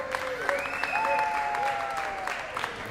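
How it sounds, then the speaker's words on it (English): Audience applause for sponsors at an evening event, a steady wash of crowd clapping throughout, with a few whistles or cheers rising over it. "how about a round of applause for our sponsors?"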